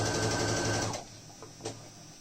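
A sewing machine stitches a fabric face mask, its needle whirring in a fast, steady close-up run for about a second before stopping, followed by a couple of faint mechanical clicks.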